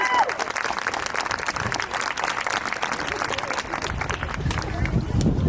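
Crowd clapping outdoors at a remembrance walk held in memory of lost children, a steady dense wash of applause with a hubbub of voices mixed in and a few shouts near the end.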